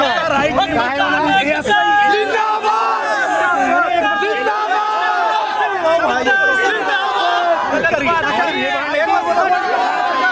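A crowd gathers at a roadside tea langar in Delhi, many voices chattering and calling out at once in a dense, close, continuous babble with occasional louder shouts.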